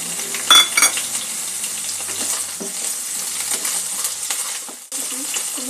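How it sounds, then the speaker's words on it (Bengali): Potatoes frying in a pan for a vegetarian paneer curry sizzle steadily and close up, with metallic clinks of a spatula against the pan early on. "আলুগুলো একটু ভেজে নেব।"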